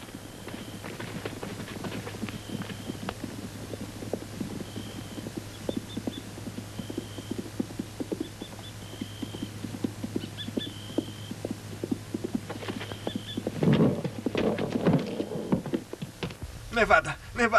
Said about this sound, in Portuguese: Alguém está se aproximando, eu ouvi os cavalos.